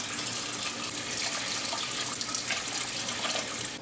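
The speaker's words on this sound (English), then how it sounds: "we're going to add in 3 cups of water" Three cups of water pour steadily into a curry pot, a continuous bright splashing gush that stays even and close for several seconds without any talking.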